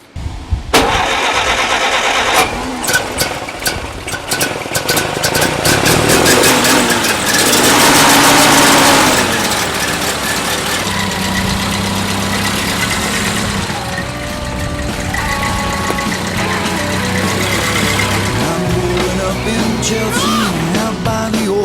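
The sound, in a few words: 1933 Model B engine with sports exhaust idling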